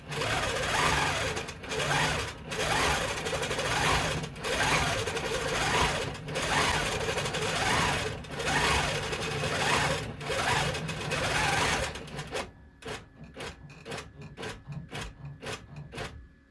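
A sewing machine stitches fabric for a notebook cover, a steady fast mechanical whirr running loud and continuous for about twelve seconds, then giving way to a few quieter, spaced stitches.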